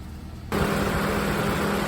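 A car engine starts up and settles into a steady idle after a repair for a cylinder 2 misfire (P0302 code), a continuous broadband rumble and hiss that stays even throughout.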